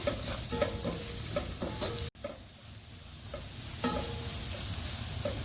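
A beetroot pickle mixture with garlic fries in a pan while being stirred, a close sizzle broken by repeated scraping strokes of a spoon and a brief gap in the sound midway.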